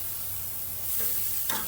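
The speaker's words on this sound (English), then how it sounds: "I'm gonna warm up my tortillas." Carne asada and tortillas sizzle on a griddle with a steady, soft frying hiss, and a brief stirring or flipping scrape comes near the end, with no talk.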